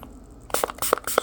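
A spray bottle of soapy water is squirted onto a leaking tire at a crack in the mag wheel, giving several short, close hissing bursts in quick succession after a brief quiet start.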